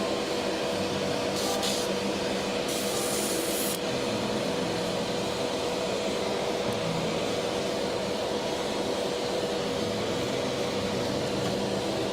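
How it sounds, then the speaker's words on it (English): An airbrush sprays continuously while painting primer onto a miniature, giving a steady, close hiss of compressed air with a couple of brief sharper bursts early on. "Let's get the airbrush going here."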